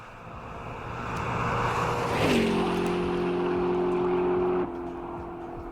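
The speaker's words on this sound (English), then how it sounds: "big American V8 in there." A big American V8 of a Batmobile rises in a smooth revving roar, holds a steady droning pitch for a couple of seconds, then drops off abruptly, loud and close with no talk.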